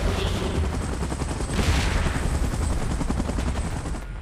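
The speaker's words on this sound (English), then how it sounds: "Chopper in position." A helicopter in the BGMI mobile game gives a loud, steady, chopping roar with rapid rotor pulses. The dense wash runs throughout and eases slightly at the end.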